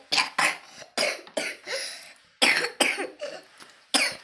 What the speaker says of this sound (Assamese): অকণমান কাহ হৈ আছিল, ল'ৰাটো চৰ্দি